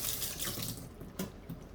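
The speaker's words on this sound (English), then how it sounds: "This one I would just rinse." A plastic part from a cat drinking fountain gets rinsed under a running tap, a steady close splash of water that changes as the piece moves through the stream.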